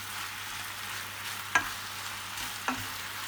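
Chicken fajita strips marinated in fajita mix sizzle in a pan on high heat, a steady close hiss with two brief stir or scrape knocks.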